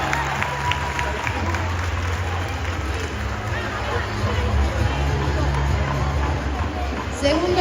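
Crowd applause at a carnival costume contest prize ceremony in O Grove, a dense sustained clapping from an audience, loud and continuous with some crowd chatter mixed in.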